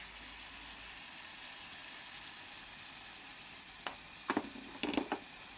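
Onions fry with salt in a pan for tomato chutney, giving a steady low sizzle, then several sharper clattering stirs near the end.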